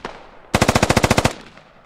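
A machine gun in a military combat video game fires one rapid burst of about a dozen evenly spaced, loud, close shots lasting under a second, followed by a brief fading tail.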